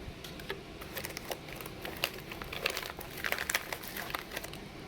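Foil pouch from a humanitarian daily ration being handled, giving quiet, close crinkling and rustling in irregular bursts.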